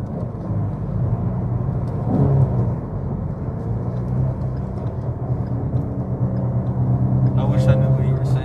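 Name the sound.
car engine running while driving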